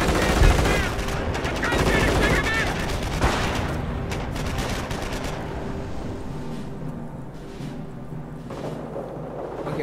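Machine gun fire in the WWII strategy game Company of Heroes on the Redball Express map during a 3 vs 3 match: loud, sustained rattling bursts layered with distant explosions and battle noise, easing slightly toward the end.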